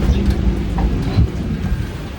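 Rain falls on a hot day, a dense, loud, steady wash of patter with a deep low rumble underneath, heard alone without voices.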